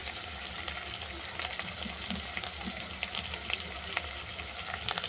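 Onion and tomato sauté in a pan for a mustard fish dish, a steady close sizzle and crackle with intermittent scraping stirs, alone without voices.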